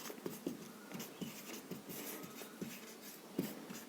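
Pen or chalk writing out an equation for a magnetism physics problem, a steady scratchy stroking with small tapping accents, close and fairly quiet, with no talk.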